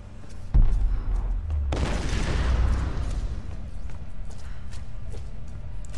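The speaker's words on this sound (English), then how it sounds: "Now we have random explosions." Explosions in the video game Tomb Raider Definitive Edition: a sharp nearby boom, then a larger blast that rumbles and rolls on for several seconds before fading under scattered lighter impacts.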